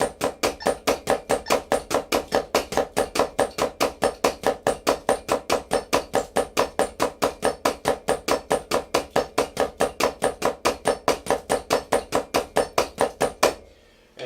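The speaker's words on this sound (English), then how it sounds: "which is our standard paradiddle sticking, it would sound like this in unison." Paradiddle sticking played in unison by hands and feet on a drum kit, a long run of evenly spaced, sharp, punchy hits at a steady tempo, close and loud, stopping abruptly near the end.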